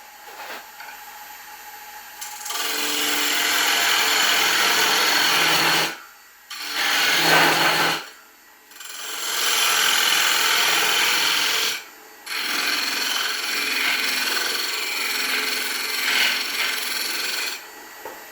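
A wood lathe spins punky wood while a carbide square roughing tip cuts it, making long continuous scraping rasps in several sustained passes separated by brief pauses, close and loud with no talking.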